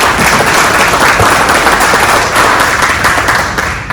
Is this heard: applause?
yes